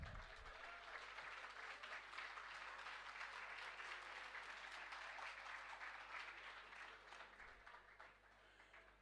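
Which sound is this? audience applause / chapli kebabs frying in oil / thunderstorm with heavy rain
audience applause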